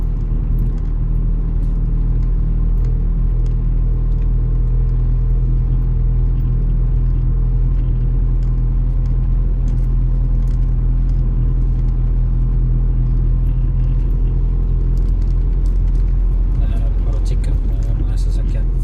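Car on a road trip near LCC in Naga City, Bicol, a steady low engine and road rumble throughout, with faint passing-traffic noise toward the end.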